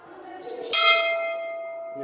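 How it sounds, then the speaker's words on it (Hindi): A temple bell is struck once nearby. It gives a bright metallic clang that rings out and decays slowly, with softer shuffling just before the strike. "आप घंटी बजा देते हैं, इनका आशीर्वाद ले लेते हैं।"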